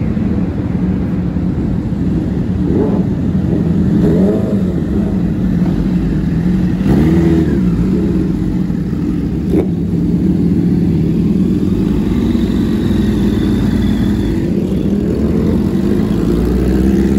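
Big motorcycles rev their engines as they leave a gathering, a loud continuous roar of engines swelling and fading throughout.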